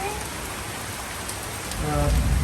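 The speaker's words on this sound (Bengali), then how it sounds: "হঠাৎ করে বৃষ্টি চলে আসছে" Sudden rain pours steadily during a storm over harvested paddy fields, a dense near hiss that swells louder toward the end.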